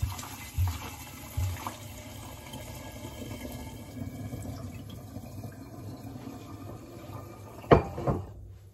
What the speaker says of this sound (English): I'm going to pour it back into the original demijohn.